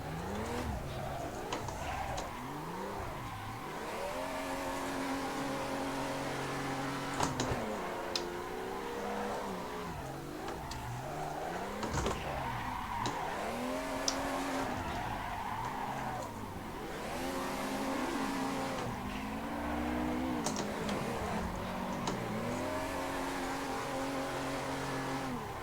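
Car drifting around a dirt-edged track in a sim racing video game, the engine revving up and down continuously with repeated tire squeals and skids over steady, moderately loud game audio.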